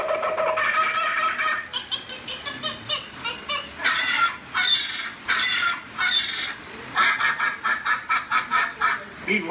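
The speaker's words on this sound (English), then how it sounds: "Suddenly, the treetops explode in a frenzy of outraged birds." Animatronic birds squawk and honk in a frenzy from the treetops on Disney's Jungle Cruise ride. Loud, chaotic bursts of calls come in rapid clusters, with brief pauses between.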